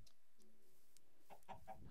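Chicken clucks from Minecraft, a few short bursts in the second half of the clip, fairly quiet and alone over faint game ambience.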